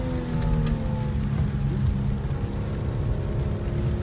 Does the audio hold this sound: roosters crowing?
no